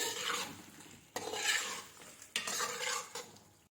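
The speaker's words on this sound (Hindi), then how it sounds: "अब इसकी हमने दरमियानी आंच में 6 से 7 मिनट के लिए अच्छी तरह से बुनाई करनी है।" Steady sizzling of spices frying for chicken chana dal, with scraping stir strokes against a pot, three bursts of stirring in a row, close and fairly loud, no voices.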